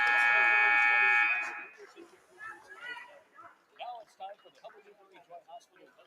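A varsity high school basketball game, Newberry at Superior Central, reaches the end of the half as a loud, sustained arena buzzer blares for over a second. It cuts off into a commentator's talk.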